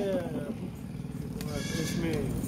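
Cargo goats in a farm setting give several bleats, some overlapping, against a busy crowded background with people talking nearby.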